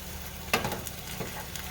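Hot dogs fry in a pan for chili dogs, giving a steady sizzle with a sharp stir or scrape near the start and light clinks scattered through.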